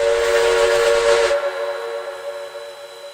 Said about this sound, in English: the whistle has a noticeably different tone